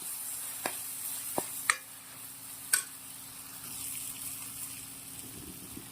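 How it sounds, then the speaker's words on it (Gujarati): Spice masala roasting in a pan for a green chickpea curry, with steady low frying sizzle and a few sharp clicks of a spoon stirring against the pan, close and moderately quiet with no talk. "2 મિનિટ સુધી મસાલાને શેકી લેજો"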